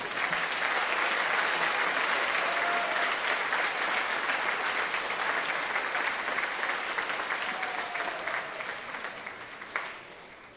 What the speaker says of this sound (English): Let's give our 3-sport athletes a round of applause.